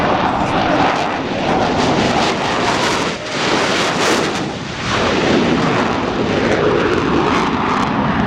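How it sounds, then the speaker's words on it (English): A US Navy Blue Angels jet takes off at the 2014 Rhode Island airshow at Quonset, its engine a loud, sustained broadband roar with gusty wind buffeting throughout, swelling slightly as it climbs away. "Blue Angel number 5 is rolling. He'll accelerate to 170 miles per hour and climb to an altitude of 80 feet."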